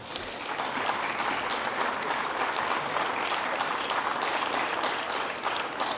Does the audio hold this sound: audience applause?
yes